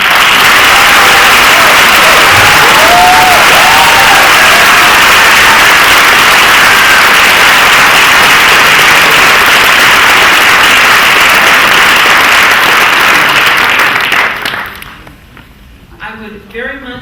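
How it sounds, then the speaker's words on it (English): Audience at a college oratorical contest clapping, a loud, sustained burst of applause that carries on for about fourteen seconds before dying away, with a voice speaking briefly near the start and again after it fades. "So let's give them one more big round of applause."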